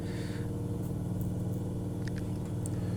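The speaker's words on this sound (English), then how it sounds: "When you open up the throttle on this bike, it really takes off" A Harley-Davidson Low Rider S motorcycle engine running on a Florida ride, giving a steady, deep rumbling drone at constant volume throughout with no voices.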